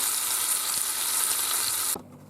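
Broth hits a hot Ninja Foodi pot after a chuck roast is seared, giving a loud, steady, close sizzle that cuts off abruptly near the end.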